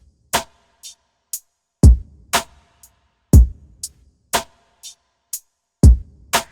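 A simple drum beat plays solo: deep kicks and sharp snare hits alternating in a steady, sparse pattern with lighter hi-hat ticks between, crisp and dry with nothing else underneath.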